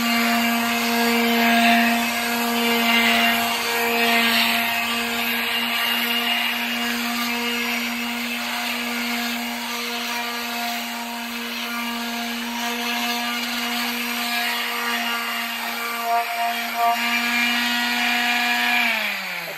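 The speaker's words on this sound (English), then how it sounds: "so I'm going to go ahead and start sanding right now." Steady whine of an electric power sander running on wood, a constant motor hum with grinding texture, close and uninterrupted throughout.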